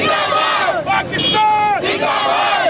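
Children with thalassemia, dressed in army uniforms at a walk, loudly chanting Pakistan Zindabad slogans together, a close, sustained crowd chant in rising and falling bursts.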